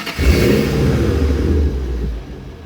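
A stock 2005-2010 Ford Mustang GT with only an axle-back exhaust revs hard, a deep, loud, close engine roar that holds steady for about two seconds before easing off.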